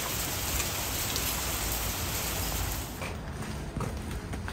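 Rain mixed with hail falls steadily outdoors in a dense, loud, continuous patter of drops and ice pellets on surfaces, slightly easing toward the end.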